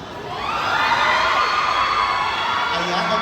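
An audience at a media conference for a show screams and cheers, the noise swelling in the first half second and holding loud and sustained, a crowd of high excited voices that continues to the end.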